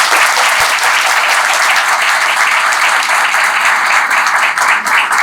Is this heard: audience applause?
yes